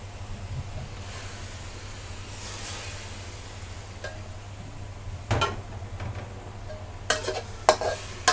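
Minced pork cooking in a pan with a splash of fish sauce, a steady soft sizzle with occasional stirring scrapes and clinks growing more frequent toward the end.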